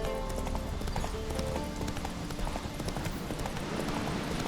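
Roach, a horse in The Witcher 3: Wild Hunt, gallops with steady, rapid clip-clop hoofbeats that continue throughout, loud and close amid game sounds and a faint background score.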